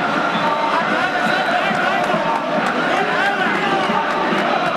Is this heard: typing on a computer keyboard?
no